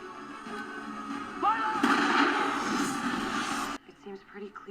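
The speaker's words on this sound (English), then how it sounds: "Another bomb!" Bomb explosion from a TV action drama, a loud sustained blast and rumble that cuts off abruptly, heard under a person's voice reacting.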